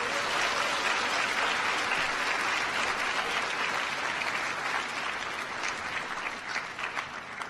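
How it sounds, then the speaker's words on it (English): A large crowd at a town hall in Luang Prabang, Laos applauds steadily, a dense wash of clapping that holds strong and then begins to thin toward the end. "Can everybody please give Om a big round of applause for that great introduction."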